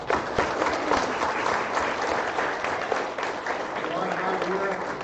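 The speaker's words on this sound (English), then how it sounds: "How about a big round of applause?" A crowd applauds at a school moving-on ceremony in 2021, a dense, sustained burst of clapping that fills the room.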